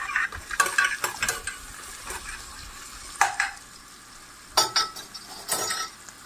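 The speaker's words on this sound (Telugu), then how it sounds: "సో నేను కొంచెం ఉప్పు వేసుకొని మగ్గించుకుంటున్నాను." Onions sautéing with salt in a pan, soft frying sizzle under intermittent scrapes and clinks of a spoon stirring against the metal, several sharp stirring strokes spaced irregularly.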